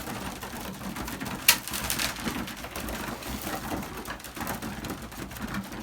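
Belgian racing pigeons cooing inside their loft, a continuous nearby murmur of soft coos with a sharp brief clatter early on, moderately loud and without any talking.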